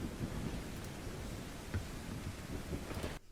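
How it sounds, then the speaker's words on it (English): A background thunderstorm weather effect in a game, steady rain hiss with low rumbling thunder throughout, then cut off abruptly near the end. "we don't need a thunderstorm in the background"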